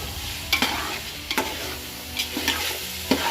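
Potato, peas and cauliflower pulao sizzles in a hot pan while a spoon scrapes and stirs it in four sharp, evenly spaced strokes over a continuous low frying hiss.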